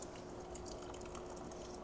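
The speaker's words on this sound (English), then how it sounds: "So I'm just going to pour the liquid off of there." Brine from canned whole baby clams is poured off into a kitchen pot, a steady, faint watery trickle with no pauses and no voices.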